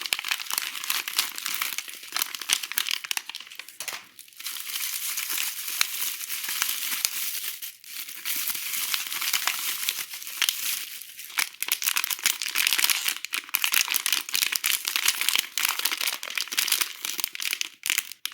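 Bubble wrap being unwrapped from an unopened blind box figure package, producing continuous close crinkling and rustling with brief tearing bursts, with no talk.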